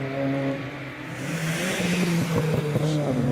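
A Mark 1 Volkswagen Golf GTI rally car rounds a corner on a hillclimb, its engine droning steadily at moderate distance, the note rising toward the end as it pulls away, with some crowd or ambient noise underneath.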